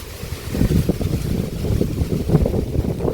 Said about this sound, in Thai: ลมขนาดโอ้